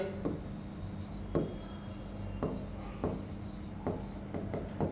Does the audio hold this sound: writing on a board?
yes